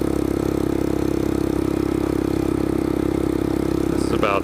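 A Royal Enfield Scram 411 motorcycle rides along a Pennsylvania state forest road at about 35 to 40 mph. Its engine holds a steady, close, continuous drone throughout, with a brief high chirp near the end.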